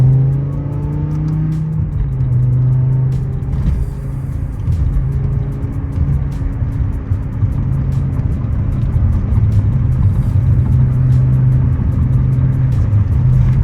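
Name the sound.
BMW M5 upgraded exhaust from inside car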